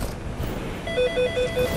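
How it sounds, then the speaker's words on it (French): A telephone rings in a video game, its electronic tone repeating in short, evenly spaced pulses over a steady background hum. "Ah, c'est mon téléphone."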